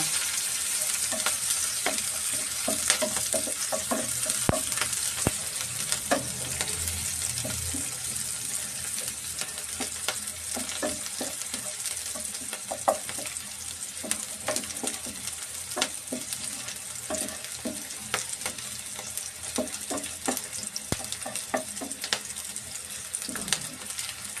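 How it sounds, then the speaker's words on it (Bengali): Sliced onion, chopped garlic and split green chilies sizzle steadily in oil in a pan, with a constant crackling hiss and frequent scraping stirs, close and continuous without any talk. "পেঁয়াজটা ভালো করে ভেজে নেব।"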